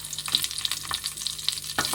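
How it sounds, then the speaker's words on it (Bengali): Sliced onion hits hot oil with cumin seeds in a kadai, making a steady close sizzle with light stirring scrapes and small crackling pops throughout. "জিরে দিয়ে আমি একটু অনিয়নটা দিয়ে দেবো"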